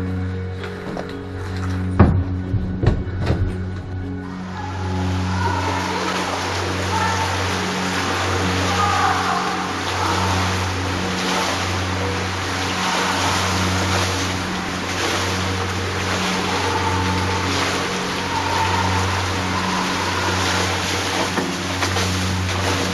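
A ride down the right-hand blue water slide at the Bergische Sonne waterpark in Wuppertal: a few clattering knocks at the start, then a loud, continuous rush of water and wind buffeting close to the microphone.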